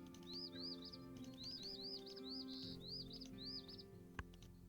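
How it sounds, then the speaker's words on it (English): A series of bright, rising bird chirps from the Wingspan board game app repeat in quick bursts over soft game music, ending with a single sharp click. "I like the birds in this game because when you click on them,"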